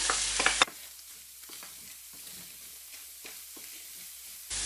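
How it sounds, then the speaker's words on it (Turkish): Onions sizzle and crackle softly in a hot pan, a steady frying hiss with occasional stirring scrapes, close by, while cooking a minced-meat crepe dish with béchamel sauce. "Bunu da ilave ediyorum ve yaklaşık 2-3 dakika daha kavuracağım."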